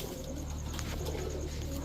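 Soft, low cooing of Pakistani Teddy pigeons repeats steadily against a constant background hum, with no voices.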